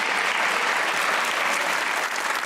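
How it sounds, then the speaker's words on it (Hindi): A studio audience at a comedy talk show applauds loudly and steadily, a thick wash of clapping filling the room without voices. "तालियां बजाएं"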